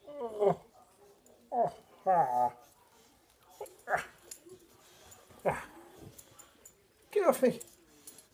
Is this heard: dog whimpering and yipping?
yes